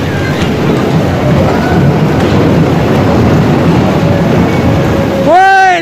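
An amusement ride train at Blackpool Pleasure Beach rolls along with a steady, close rumble and clatter, ending in a short burst of excited voices or screams.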